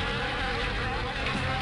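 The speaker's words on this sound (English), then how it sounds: "Maybe we can kill him before he uses his wasps." Wasps buzzing in the 1999 video game Septerra Core, a steady close insect drone holding for the full short stretch without a break.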